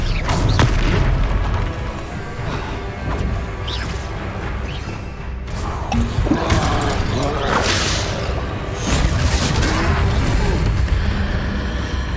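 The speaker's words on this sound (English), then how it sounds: "Expelliarmus!" The Expelliarmus spell is cast in the VR video game Wizard's Way, a loud, dense booming blast with rushing whooshes that rise and fall over about twelve seconds, with game sound throughout.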